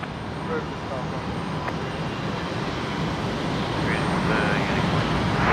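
At night at Brisbane Airport, a noisy jet with Rolls-Royce Tay engines, one engine cowling open underneath, runs with a steady, harsh roar that swells slightly toward the end, while someone talks over it.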